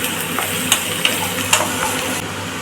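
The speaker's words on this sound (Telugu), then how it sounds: "స్టవ్ ఆన్ చేసి బాండి పెట్టి అందులోకి ఆయిల్ వేసి ముందుగా తరిగి పెట్టుకున్న ఆనియన్స్ని వేసుకోవాలి" Chopped onions sizzle steadily in hot oil in a kadai, with a few light clicks of a spoon against the pan over the continuous frying hiss.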